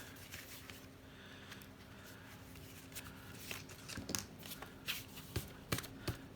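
A stack of scrap papers is split and tapped together, giving soft, quiet riffling and rustling that builds into a few sharper taps near the end.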